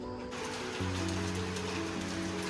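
Steady rain patters down in a continuous hiss in misty Munnar, with a low hum running underneath throughout.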